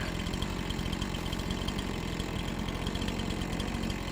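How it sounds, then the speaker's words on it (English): Chainsaw running in Farming Simulator 25: a steady, buzzing motor drone with a rapid pulsing rhythm, held evenly for about four seconds at moderate loudness with no talk. "Chainsaw."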